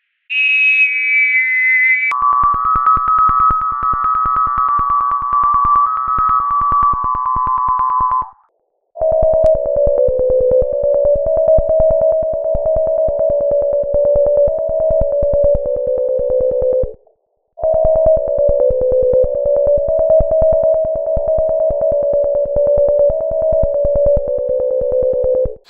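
Steady pure sine tones held for several seconds each, first a high tone, then one lower, then an even lower harmonic taken down an octave, with two short gaps of silence between loud sustained sections.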